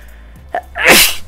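A single loud, close sneeze with a short sharp intake before it, heard during a football video game session.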